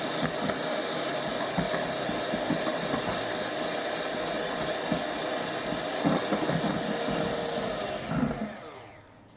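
An electric whisk beats a classic Genoise sponge mixture in a bowl, a steady whirring hum that runs unbroken for about nine seconds before tailing off at the end.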